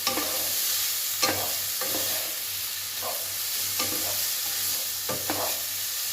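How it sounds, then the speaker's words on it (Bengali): Chicken pieces frying with onion in a pan, a continuous close sizzle broken by repeated scraping strokes of a spatula stirring at a steady, unhurried rhythm. "চিকেনটা পেঁয়াজ দিলাম, চিকেনগুলো দিয়ে দিলাম, দিয়ে আগে একটু ভাজা করে নিই চিকেনটাকে।"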